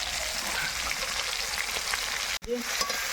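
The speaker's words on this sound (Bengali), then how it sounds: "এবার মাছ ভাজার পর টমেটোগুলো কিন্তু একটু ফ্রাই করে নেবো" Tomatoes sizzle in a pan of hot oil just used for frying fish, a steady crackling hiss with small pops throughout and a brief dip where the sound cuts out momentarily.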